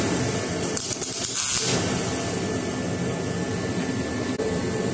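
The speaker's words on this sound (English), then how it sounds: "I'm just going to go through, I'm going to put a couple tack welds just to hold it in place" A couple of tack welds on an elevator bolt during a 1968 Charger AWD body swap give a hissing, crackling burst near the middle of the clip, set against a constant broadband shop hiss.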